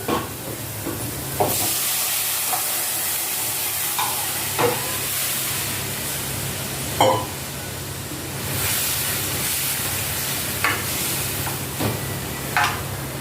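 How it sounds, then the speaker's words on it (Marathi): A buttermilk, curd and gram flour batter is poured into a hot tempering for kadhi, giving a continuous close sizzle with stirring clatter and occasional sharper spoon clinks against the pot. "आता आपण ताक आणि दह्या बेसनाचा गोळ केलेला तो टाकूया"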